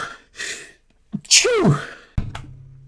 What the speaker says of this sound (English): I just sneezed like 8 times